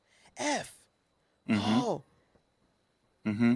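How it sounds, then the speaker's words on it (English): Three heavy, ragged breaths come one after another with pauses between them, close and strained like someone panting hard. "you can hear him breathing hard"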